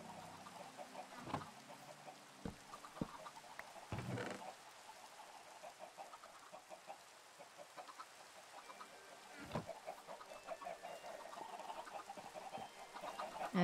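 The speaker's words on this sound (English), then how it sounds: "I think we're gonna work a little bit on dealing with the chickens" Chickens clucking in a video game, soft repeated clucks and occasional sharper squawks scattered through a quiet, low-level ambience, fairly faint and without speech.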